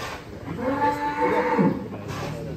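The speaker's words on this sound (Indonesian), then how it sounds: "Selanjutnya ini sapi unik ini. Belgian Blue berotot." A muscular Belgian Blue cow at a cattle contest lets out one loud, sustained low moo lasting a couple of seconds, close and clear with farm ambience behind it.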